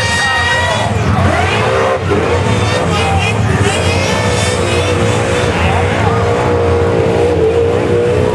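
Supercharged Holden Monaro with a full exhaust doing a burnout, its engine roaring continuously and loudly at high revs with a steady, dense exhaust drone that barely dips throughout, with voices faintly underneath.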